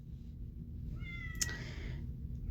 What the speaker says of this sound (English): My cat is just, I don't know what her deal is today.